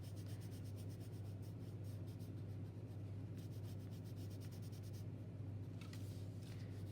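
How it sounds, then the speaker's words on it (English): Soft, faint scratchy rubbing of colored pencils blending on paper, steady back-and-forth strokes with a low hum underneath. "And blend the pencils together."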